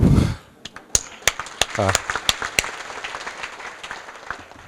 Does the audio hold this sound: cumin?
no